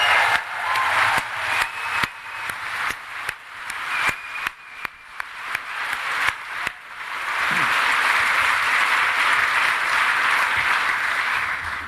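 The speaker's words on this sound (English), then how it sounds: "Let's give them all another round of applause." Sharp individual claps start the clip, then swell into sustained, dense applause from a large crowd at a political campaign rally in Melbourne that continues steadily to the end.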